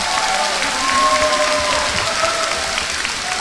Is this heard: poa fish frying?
no